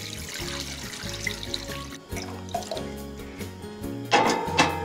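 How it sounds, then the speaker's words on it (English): Water poured from a tap into a saucepan holding carrots, a close splashing and filling sound in bursts, pausing briefly midway before running again. "So place them in and pour some water over it."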